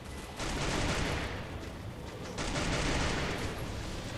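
Sustained automatic gunfire bursts from the Free Fire mobile battle royale game, dense and continuous rapid fire across the clip with a brief pause in the middle before another long burst.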